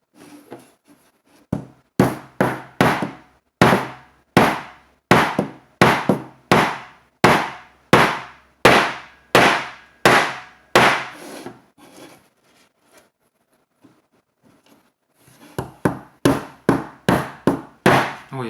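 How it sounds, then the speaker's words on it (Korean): Hammer blows drive nails into wood in a steady, close series of sharp knocks, a long run of regular strikes, a pause of near silence, then another quicker cluster of hits. "이제 못을 한번 박아볼까요?"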